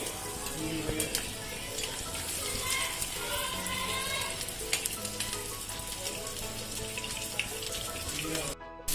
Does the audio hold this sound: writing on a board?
no